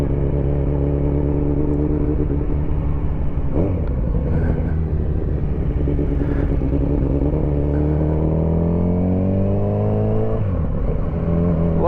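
Kawasaki Z900RS motorcycle fitted with an Akrapovic exhaust revving up and settling back repeatedly, a deep, loud, continuous engine roar heard up close with rising and falling pitch and no speech.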